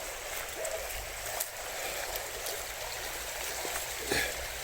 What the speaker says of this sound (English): What I like about these videos is the noise of the water